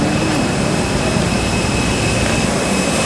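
A jet airliner passes overhead as a loud, steady broadband roar that fills the whole stretch without a break, with no talking over it.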